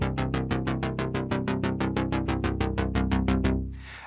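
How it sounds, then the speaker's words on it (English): A Dave Smith Tetra synthesizer plays an edited unison bass preset, repeating steady sixteenth notes on one pitch, loud and upfront, with a ringing tail at the end and no voices. "The bass is a Daysmith Tetra that I'm using."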